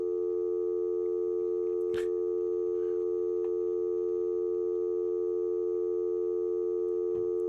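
A steady telephone dial tone hums on after a dropped call-in to a radio talk show, loud and unbroken, with a couple of faint clicks breaking through.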